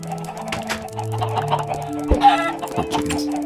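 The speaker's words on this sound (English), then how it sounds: "Poor chickens." Chickens cluck in the video game Minecraft, several short blocky clucks in an irregular run, close and clear, with faint game background noise.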